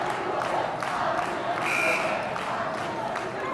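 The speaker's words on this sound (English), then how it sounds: "chants erupting from the crowd that they believe that we will win" A crowd chants and roars at a varsity high school basketball game in a gym, a steady loud wash of voices lasting throughout.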